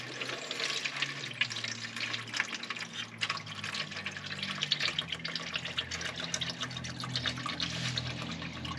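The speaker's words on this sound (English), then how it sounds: "I'm gonna pull these 6 bolts to drain the oil" Old oil pouring steadily out of the engine of a 1975 Volkswagen Super Beetle that sat for 20 years, a continuous close trickling splash with dripping, no talking.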